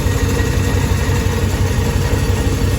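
A ProCharged Ram truck engine idles with long tube American Racing headers and Flowmaster exhaust, a loud, steady, deep rumble that throbs evenly and close up throughout, with no voices.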